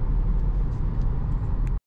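A BMW 118i with a three-cylinder engine cruises at 130 km/h on a motorway at night, giving a loud, steady low road and engine drone with tyre roar, cut off abruptly at the end.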